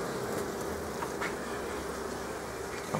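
Honey bees from a very populous colony buzzing in and around the hive in March, a dense, steady droning hum, close and continuous, with no speech over it.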